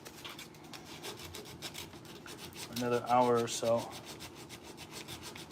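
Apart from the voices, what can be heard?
hand sanding the wooden mane of a rocking horse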